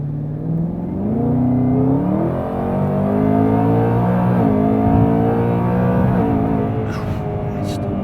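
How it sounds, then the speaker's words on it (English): A supercharged Mustang or Caterham engine revs high and keeps climbing, a loud, sustained close-up wail that rises in pitch over several seconds with little break. "God, it loves to rev."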